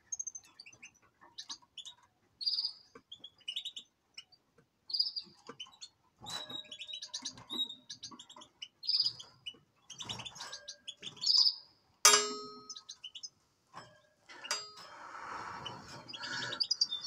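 Small bird chirping while being held and handled for artificial insemination of eggs, giving repeated short high tweets in irregular bursts with rustling handling noise and brief scratchy sounds later.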